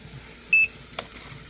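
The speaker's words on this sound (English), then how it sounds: "So now it is beeping" A single short electronic beep from a Presto electric pressure canner, followed by a faint click, in an otherwise quiet room.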